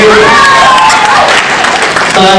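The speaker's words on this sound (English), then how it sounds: "let's have a cheer for everybody who received those letters from Asia." Audience at a rehearsal dinner clapping and cheering, loud and close, with dense applause filling the whole moment and whoops and voices rising over it.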